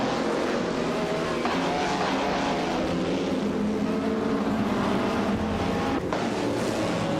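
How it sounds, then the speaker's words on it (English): Race cars start a race at Dover, a dense, loud, continuous engine roar with the pack accelerating together, sustained without a break and no speech. "the race has just kicked off at Dover"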